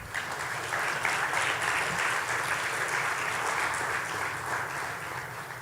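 Steady applause from an audience at a university recognition ceremony and tenth anniversary celebration, dense clapping from many hands that holds even throughout and eases slightly toward the end.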